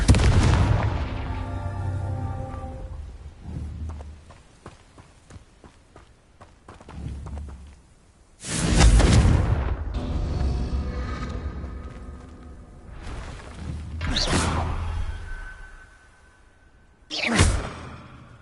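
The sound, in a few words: Confringo explosive spell blasts, from a Hogwarts video game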